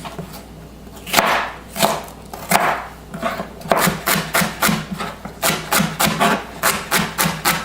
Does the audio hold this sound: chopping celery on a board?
yes